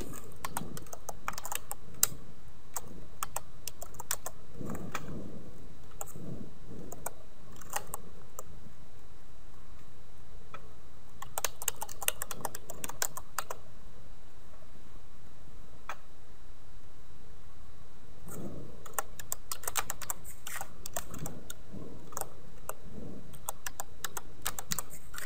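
A computer keyboard typing in a database name, close clicky keystrokes in short bursts separated by pauses, over a faint steady room hum, with no talk.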